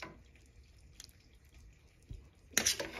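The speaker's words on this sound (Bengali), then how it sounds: "উপর থেকে গ্রেভি ঢেলে দিচ্ছি।" Gravy for a Karachi-style beef rezala is poured over the dish: a quiet, soft background for most of the moment, then a brief wet splash and drizzle near the end.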